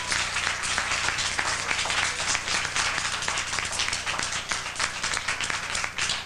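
An audience at a city council meeting claps steadily for several seconds, a dense, continuous patter of many hands in a room with no talking over it.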